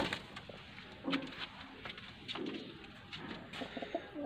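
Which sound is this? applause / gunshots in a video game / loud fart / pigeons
pigeons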